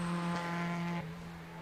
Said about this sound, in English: The engine sounded like it was missing a cylinder on that.